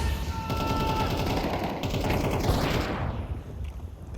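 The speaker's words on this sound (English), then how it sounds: "The AK about to make him dead" Rapid automatic AK rifle fire in a Counter-Strike match at a professional esports tournament, a dense continuous burst of close gunshots lasting several seconds before tailing off.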